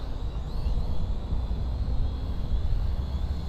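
A HolyStone HS280 brushed camera drone flies in gusty wind, a steady faint motor whine with slight pitch wobble under a heavy, continuous low wind rumble.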